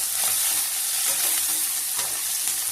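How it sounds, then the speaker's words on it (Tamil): Radish, coconut and tamarind fry in a pan over medium gas, making a loud, steady, close sizzle with faint intermittent stirring scrapes and no voices. "இப்போ நல்லா ஃப்ரை பண்ணுங்க."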